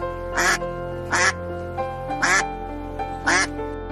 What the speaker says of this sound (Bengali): রাজহাঁস